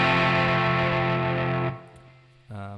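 A distorted electric guitar rings out a chord from a chorus riff, cuts off, then a short quiet gap before another distorted chord starts.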